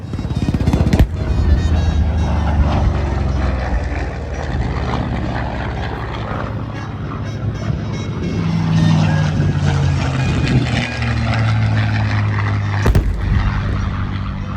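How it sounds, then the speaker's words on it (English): Douglas SBD Dauntless piston-engine warplane flying at an airshow at Camarillo, its steady propeller drone loud and continuous for the whole stretch, swelling slightly in the middle as it passes. "It's actually an amazing airplane, that Dauntless."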